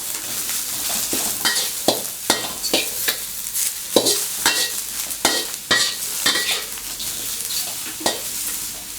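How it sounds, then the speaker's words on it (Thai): Oyster mushrooms stir-fry with garlic and spring onions in a hot pan, a steady sizzle broken by frequent sharp scraping strokes of a spatula, close and moderately loud. "ก็ผัดให้มันหอมนิดนึงตามด้วยขิงครับ"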